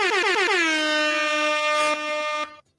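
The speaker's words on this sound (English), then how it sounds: "I was handing out air horns" A loud air horn blast with a pitch that slides up into a steady, sustained blare, then cuts off sharply, heard alone on a morning radio show.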